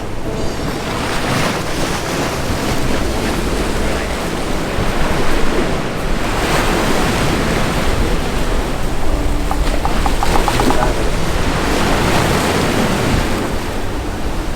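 Sea waves rolling onto a Thai beach near Kui Buri, a loud continuous roar of surf mixed with wind buffeting the microphone, swelling and easing without any voices.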